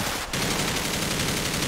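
Sustained automatic M4 rifle fire in GTA 5 rattles loud and close in a rapid, unbroken stream, with one very short gap near the start.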